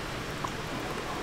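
Rain splash sound in the Minecraft modpack TerraFirmaCraft, a soft, even patter of steady rainfall, faint and continuous.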